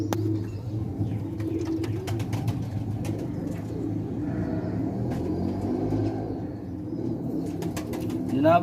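Ali-wale pigeons coo on a rooftop in Sialkot, low soft repeated coos layered over a faint traffic rumble, with a few distant sharp bird calls.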